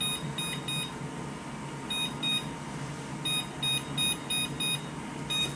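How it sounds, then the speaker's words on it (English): A kitchen timer set for ten minutes while baking a healthy taco pie at 375 degrees gives bursts of sharp, high electronic beeps in quick groups, repeating several times over a steady low background hum of the kitchen. "And then let's do the kitchen timer."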